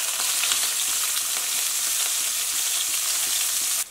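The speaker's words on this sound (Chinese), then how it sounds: "然后另起锅，放入适量油，再放入姜、蒜、辣椒" Ginger, garlic and chili stir-frying in hot oil in a wok, a steady close hiss of sizzling with faint scraping stirs throughout, alone without voices, cutting off abruptly at the end.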